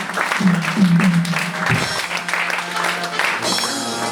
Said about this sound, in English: Clap offering for Jesus.